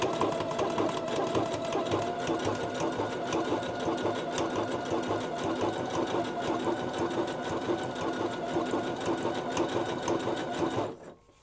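A sewing machine stitches a zipper pouch made from leftover quilt blocks in a fast, steady mechanical whir lasting over ten seconds, close and clear, stopping abruptly at the end.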